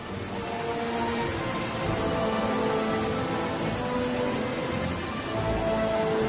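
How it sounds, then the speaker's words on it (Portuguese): Steady, dense rain in a polar region, turning to hail as temperatures hover around freezing at the onset of winter; a continuous close hiss and patter with no voices. "a chuva transforma-se em granizo, que anuncia o inverno"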